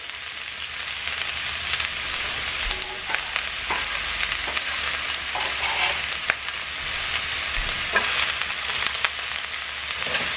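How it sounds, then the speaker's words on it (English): Onions hiss and sizzle steadily in a hot pan, a dense close crackle with occasional small pops and stirring knocks throughout. "my pan is hot. I'm going to add in my onions"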